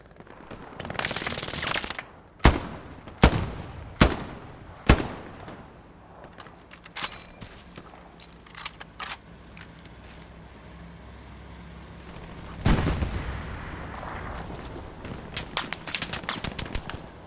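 Machine gun fire in Hell Let Loose, sharp loud bursts and single cracks early on, then scattered distant shots and a renewed rattling volley later, without speech.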